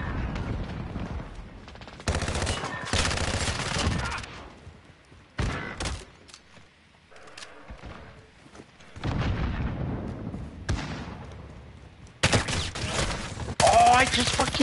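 Sustained automatic gunfire from the Call of Duty video game, dense bursts of rapid shots filling most of the stretch with brief lulls, loud and close with other game sounds between volleys.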